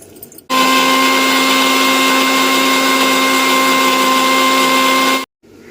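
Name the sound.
mixer grinder blending fried onions and spices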